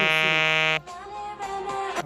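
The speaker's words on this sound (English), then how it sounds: "That was my alarm." An alarm buzzer sounds loudly with a steady harmonic tone for under a second, then cuts off as a person begins talking.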